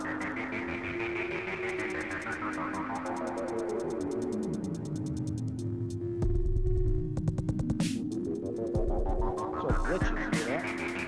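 A modular synthesizer throbs and hums with sweeping tones that dip and rise again, broken by sharp clicking glitches and bursts of distortion, loud and close with no talking.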